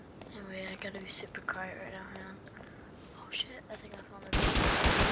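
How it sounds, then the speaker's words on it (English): Gunfire in the survival game Rust, with a burst of dense, loud shots near the end following a stretch of talk and game noise. "Oh, someone's shooting."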